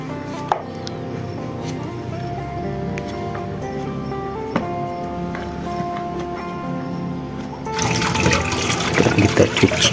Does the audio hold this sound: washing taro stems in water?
yes